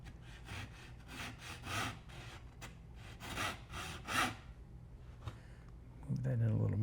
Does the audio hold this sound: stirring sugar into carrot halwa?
no